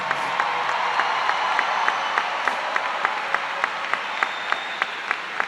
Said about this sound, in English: Families and guests, please join me in applauding the outstanding achievement,